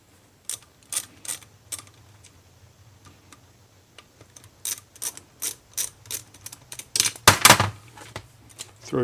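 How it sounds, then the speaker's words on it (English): Small screwdriver turning the two carburetor float bowl screws on a 1996 Suzuki DR650 during a rebuild, close ratcheting clicks in short irregular bursts that speed up and grow louder near the end, with no talking. "Put our 2 bowl screws back in."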